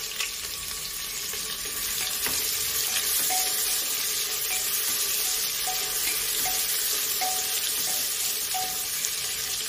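Chopped onion frying in hot oil with bay leaf for a restaurant-style veg cashew and pea pulao, a steady loud sizzle throughout with faint scraping from occasional stirring, no voices.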